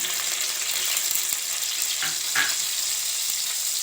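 Garlic frying in hot oil in a home kitchen while making restaurant-style Schezwan fried rice, a steady close sizzle with brief stirring scrapes and no talking.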